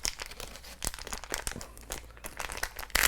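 Shrink-wrapped plastic packaging of a trauma dressing being torn open, a close, continuous crinkling and crackling with a few sharper rips, including a louder burst at the end, with no voices.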